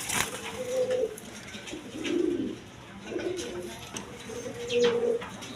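Satin pigeons, a pair of beauty pigeons, coo in a steady run of low, throaty calls close by, with a few bursts at roughly even intervals over faint background noise.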